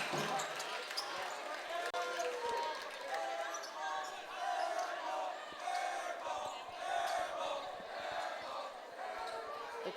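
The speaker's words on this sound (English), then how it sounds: "The crowd, otherwise known as the cage here at Chaminade High School, calling for an air ball" A packed high school gym student section, the cage at Chaminade High School, chants loudly and steadily in rhythmic unison while an opposing player steps to the free throw line, with sneaker squeaks and crowd noise filling the room throughout.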